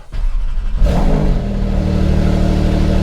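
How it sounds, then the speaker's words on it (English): A Porsche 911 Turbo S engine cold-starts with a short cranking clatter, then catches into a loud, steady high idle that holds close and alone, with no voices over it. "before we get started on that, we need a cold start"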